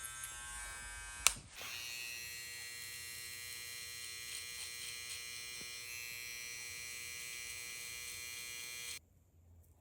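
Electric hair clippers buzz steadily through a fade haircut, a loud continuous motor whine starting after a sharp click and running for about seven seconds before switching off, no talking.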